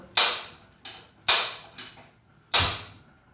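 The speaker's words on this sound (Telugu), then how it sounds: "గ్యాస్ ముట్టిద్దాం" Five sharp clicking bursts from a gas stove igniter being lit under a pressure cooker, each a loud snap with a short hiss tail, spaced unevenly and heard up close.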